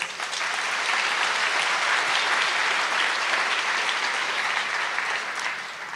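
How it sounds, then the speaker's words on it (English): Sustained audience applause fills a graduation ceremony hall for an instrumental ensemble and the vocalist about to sing the national anthem, a dense, steady wash of many hands clapping at even loudness throughout. "Please give them a round of applause."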